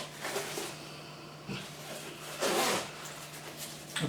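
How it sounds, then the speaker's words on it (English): Zipper on Halvarssons Wish pants being worked, heard as a few short, close zip pulls, with the longest and loudest stroke near the middle, against a quiet room. "you can see that you've got a zip system here"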